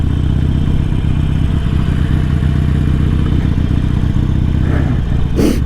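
An air-cooled Evo engine on a Harley-Davidson Sportster motorcycle rumbles steadily nearby in a loud, even, lumpy idle, with a brief clank near the end.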